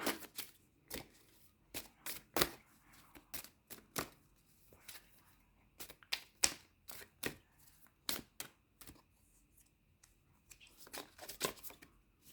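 Oracle cards are handled and drawn from a deck during a card reading, making a close, quiet series of sharp snaps, flicks and shuffling rustles at an irregular rhythm, with no talking.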